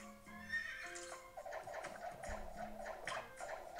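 A horse in a video game whinnies several times amid clopping hooves and other game sounds, fairly faint and with no speech.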